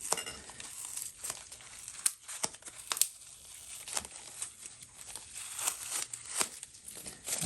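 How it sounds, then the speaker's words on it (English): Packing tape peels and crinkles off a plant shipment, with repeated sharp tearing and crackling bursts that are close and moderately loud, spread unevenly across several seconds. "This tape peels off easily and it just does a good job for packing plants with shipping."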